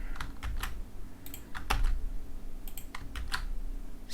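Rapid keystrokes on a computer keyboard while writing code for a Selenium web-scraping script, uneven bursts of close clicks with a steady low background hum.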